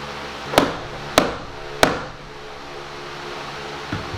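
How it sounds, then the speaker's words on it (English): Nails hammered into pine wall boards in a cabin build: three sharp, evenly spaced hammer blows close by over a steady background hum, followed by a fainter tap. "We're just gonna glue it and nail it into place."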